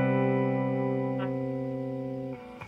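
A sustained electric guitar chord rings out through an ENO reverb pedal on its room setting, slowly decaying, then a fresh strum near the end; no voices.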